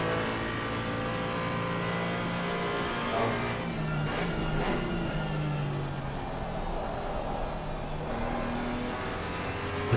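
A Porsche GT4 race car engine in a racing game at Silverstone makes a loud continuous roar that shifts in pitch as it accelerates, with revs rising and falling through gear changes.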